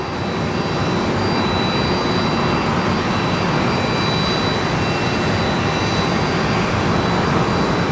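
A steady, loud roar of aircraft passing overhead, helicopters back in the air after a heavy rain storm near LaGuardia, constant and unbroken with no talking.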